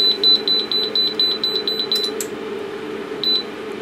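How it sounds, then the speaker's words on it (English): A Datron 4700 calibrator, under repair on a bench and set to a high-voltage output, gives a fast train of short, shrill electronic beeps. The beeps stop after about two seconds and one more beep follows later. A steady low hum runs underneath throughout. "The beeping is kind of annoying."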